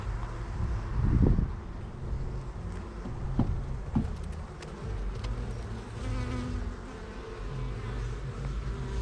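A dense, continuous buzzing of many honeybees around a hive frame carrying pollen, close and steady, with occasional soft knocks and rustles over it.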